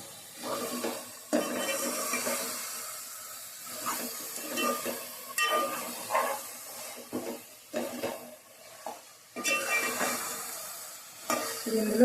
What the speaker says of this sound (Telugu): ఇవన్నీ వేసుకున్న తర్వాత బాగా కలుపుకోవాలండి మొత్తం